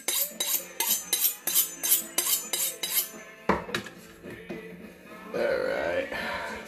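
Knife being honed on a steel in a home kitchen: a quick series of bright metallic scraping strokes in steady rhythm, followed by a few clinks and heavier clatter of dishes and utensils nearby.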